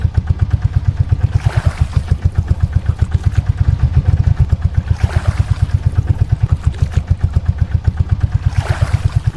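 Motor boat engine on a Sundarbans boat, a loud close rhythmic chugging thump repeating steadily throughout, with brief splashing swells over it and no talk.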